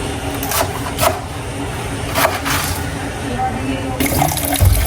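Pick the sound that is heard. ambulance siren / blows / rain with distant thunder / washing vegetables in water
washing vegetables in water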